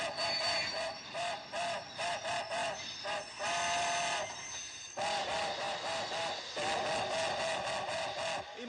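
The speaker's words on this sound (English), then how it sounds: "This is a military supply train en route from Kyoto to Tokyo." Military supply train on the run from Kyoto to Tokyo, with repeated whistle blasts over a rumbling rolling train, fairly loud and continuous, no voices.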